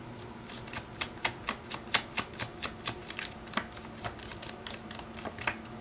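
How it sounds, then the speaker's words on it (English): A deck of tarot cards is shuffled up close, with a quick run of crisp, regularly spaced card flicks and riffles that continue steadily throughout. "Let's get some more cards from this deck."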